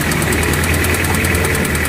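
A Toyota Revo's engine runs at a steady idle in a garage, a loud close mechanical rumble with a fast ticking rattle throughout and no voices.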